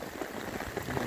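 Rain falls steadily in the Bahia sertão, a soft, even patter and hiss over a short stretch, moderately close with no voices.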